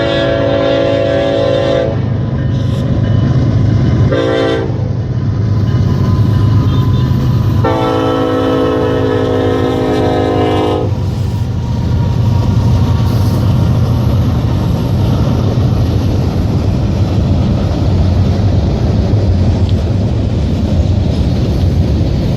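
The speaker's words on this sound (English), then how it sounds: "I caught yet another southbound freight moving out of town" Southbound freight train rolling out of town, its horn sounding in several long blasts with brief gaps over a steady loud rumble of wagons that carries on alone after the horn stops.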